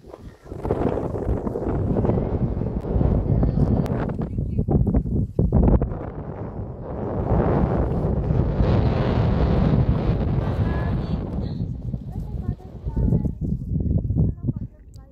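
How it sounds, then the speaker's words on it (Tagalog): Strong wind buffets the microphone on the exposed hillside of Kai Kung Leng in Lam Tsuen Country Park, Hong Kong, a loud, constant roar with a few brief lulls and a voice faintly underneath. "oh, lakas ng hangin."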